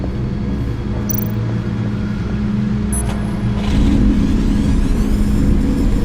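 Over-600-horsepower car engine in a Batman Telltale game, a loud steady mid-pitched drone that swells slightly partway through, mixed with faint tonal game sounds and no speech.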